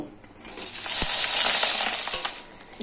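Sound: pieces of fish roe frying in hot oil

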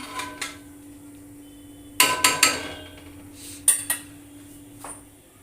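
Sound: pot being covered with a lid while cooking pulao

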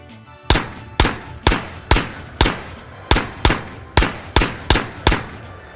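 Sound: gunshots from a gun in the video game Ghosts of Tabor

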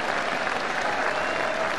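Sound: home football crowd applauding at half-time

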